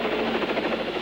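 A helicopter's steady droning rotor and engine noise, continuous and fairly loud throughout with no voices.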